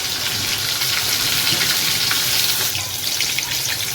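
Oyster pakoda frying in very hot oil, giving a steady, dense sizzling hiss that stays loud and even throughout with no voices.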